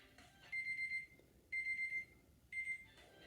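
A workout interval timer sounds three separate bursts of rapid electronic beeping, each lasting about half a second, spaced roughly a second apart and fairly faint, with a quiet room in between.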